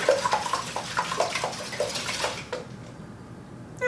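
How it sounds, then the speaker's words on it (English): Whisk beating eggs in a bowl for a carrot cake roll: quick, regular clinking taps against the bowl, close and moderately soft, stopping abruptly near the end. "we're gonna take our eggs and we're gonna give those a nice little whisk"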